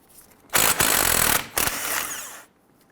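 A power tool, likely an impact wrench with a 21mm socket, loosens a tie rod nut on a 2011-2021 Jeep Grand Cherokee front steering knuckle, firing in two loud close bursts of about one second each with a brief gap between.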